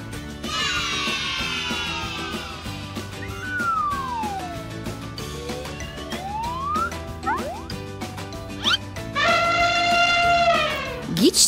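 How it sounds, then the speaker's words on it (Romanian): An elephant trumpets in a loud, harmonic blast near the end, following a stretch of playful children's music with sliding tones. It is part of a zoo-animal quiz for kids. "E un elefant!"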